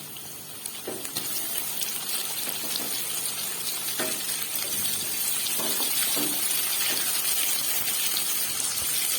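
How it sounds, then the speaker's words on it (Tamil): Chopped onions sautéing in a pan for a beetroot kuzhambu, a steady broadband sizzle with soft scraping and clinks over the whole stretch, close and fairly loud, no voices. "வெங்காயத்தை 2 நிமிஷம் நல்லா வதக்கிக்கோங்க"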